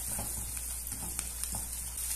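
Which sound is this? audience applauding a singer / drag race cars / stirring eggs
stirring eggs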